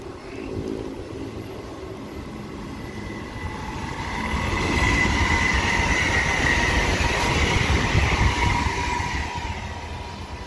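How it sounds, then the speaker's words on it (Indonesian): A Whoosh high-speed train rushes past on the Jakarta–Bandung line, a steady loud roar of wheels and air that swells midway and holds with a faint metallic hiss on top, with no voices. "ini kereta cepat sudah ada."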